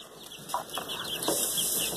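Olandsk dwarf chickens cluck in their fresh, clean housing at feeding time, a few short soft clucks over a steady farmyard background, close and fairly quiet.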